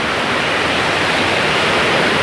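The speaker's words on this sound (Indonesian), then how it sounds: "ini sungai" A river in the countryside of Sodonghilir, Tasikmalaya, its water running somewhat murky, rushes nearby in a loud, steady, broadband roar with no pauses and no voices.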